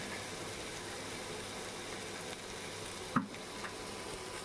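An aloo paratha cooks on low heat on an induction cooktop, making a faint, even sizzle with a single brief clack near the end.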